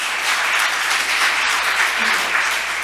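A crowd claps in warm, continuous applause at a church worship service, dense and steady from start to finish.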